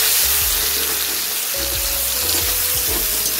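Chopped tomatoes frying in hot oil with green chillies for egg and prawn biryani, a loud, steady hiss of sizzling that fills the whole stretch with a few low bumps underneath.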